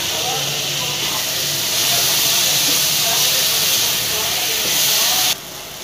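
Chopped tomato frying in hot spice masala for a baingan aloo sabji, a steady loud sizzling hiss that swells midway and cuts off abruptly near the end.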